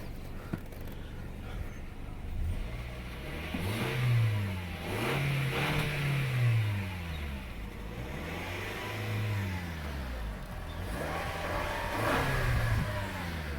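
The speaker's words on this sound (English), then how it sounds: "It's not the most refined 4-cylinder, but again, it gets the job done." The 4-cylinder engine of a 2020 Toyota Camry SE revs repeatedly, with several rising and falling throttle blips over a steady engine drone, heard from fairly close at moderate loudness, with no clear talking.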